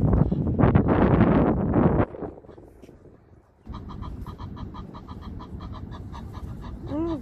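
Egyptian geese give a series of repeated honking, hissing calls outdoors in a London park after a stretch of wind rumble, the calls close and fairly steady.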